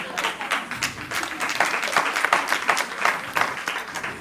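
Audience applause fills a hall, steady dense clapping from many hands at close-to-mid distance, continuous across the whole stretch with no talk over it.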